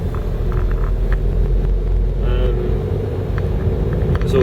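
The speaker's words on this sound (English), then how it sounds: "Oh, there's a car there." A car drives along an empty road at 5 AM. It makes a steady, close, low rumble with faint rising engine tones and no clear talk.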